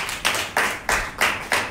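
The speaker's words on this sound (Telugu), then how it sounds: "చప్పట్లు కొడుతూ దేవుని" A church congregation claps hands during prayer, five sharp, evenly spaced claps with a bright, roomy ring, close and loud, with no talking.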